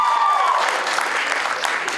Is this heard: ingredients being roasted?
no